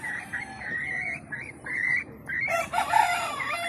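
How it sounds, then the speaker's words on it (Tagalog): Chickens cluck and a rooster crows in the distance, with faint croaking and outdoor background noise throughout. "ito yung aking mga manok na mapapakita ko sa inyo"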